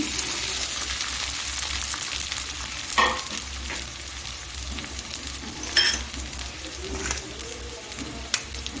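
Ginger, green chili and cumin fry in oil in a pan for sabudana khichuri, making a continuous close sizzle with soft crackle. A couple of brief clinks or stirring scrapes break in, and no one speaks.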